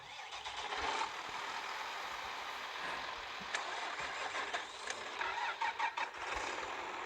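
A tractor engine cranks and starts in the farming simulation game Farming Simulator, with a short starter burst followed by a steady running engine and a few sharp clicks near the end.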